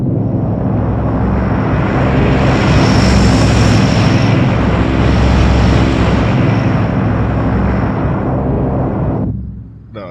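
A propeller airplane engine in the DayZ video game roars loud and close in a steady, heavy drone that holds for several seconds before cutting off abruptly near the end.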